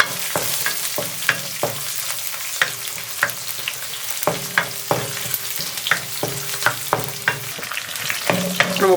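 Finely chopped garlic sizzles steadily in hot oil in a pan for murungai keerai sambar, with a dozen or so sharp spatula scrapes and taps landing at an irregular rhythm close up.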